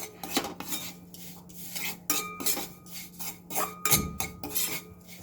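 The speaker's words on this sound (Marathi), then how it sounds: "ती परत आपल्याला त्या पॅनमध्ये टाकायची आहे आणि हळूहळू आपल्याला ते हलवायचं आहे।" A utensil stirs ground moong dal in ghee in a pan, producing repeated scraping and clinking strokes in an uneven rhythm, close and clear, with one heavier knock near the end and no speech.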